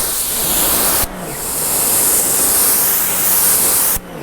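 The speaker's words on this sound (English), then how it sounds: "just spray it or mist it and you'll see beads" Detailing spray misted onto car paint in two long, loud hissing bursts, each cutting off sharply, with no voices.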